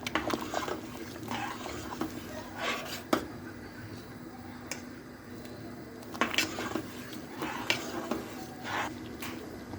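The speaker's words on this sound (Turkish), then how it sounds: "Karıştırmaya devam." A spoon scrapes and rubs around a pot of ashura in intermittent strokes, with occasional sharper clacks against the rim amid quiet background hum.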